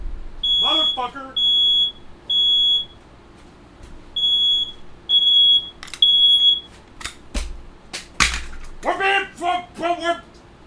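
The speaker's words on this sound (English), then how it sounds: "that was a smoke alarm" A smoke alarm beeps in a steady series of short, piercing electronic chirps with regular gaps, loud and close, followed by people talking.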